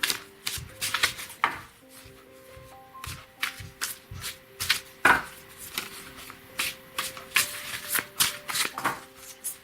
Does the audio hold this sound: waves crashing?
no